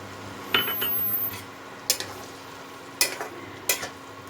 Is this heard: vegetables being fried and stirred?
yes